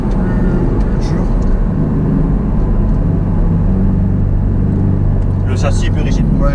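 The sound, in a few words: Porsche 718 Cayman four-cylinder engine in sport mode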